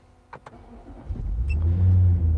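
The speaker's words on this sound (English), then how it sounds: "As soon as I start the car," A car engine in a 4x4 fitted with a dual battery setup cranks briefly after a couple of clicks, then catches and settles into a loud, steady idle close by.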